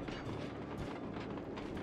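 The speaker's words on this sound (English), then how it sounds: "Oh god, the train's behind me!" Train rolling past in the video game Sly 2: Band of Thieves, a steady rumbling clatter of wheels and rail noise close by, alone without speech.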